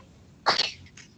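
A single sharp sneeze bursts out abruptly at a conference talk on artificial intelligence, one loud explosive burst with a short trailing tail, otherwise quiet room.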